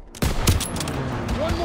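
Rapid bursts of World War II-era gunfire in a Call of Duty: WWII stronghold battle, loud and close, with overlapping shots crackling continuously through the clip.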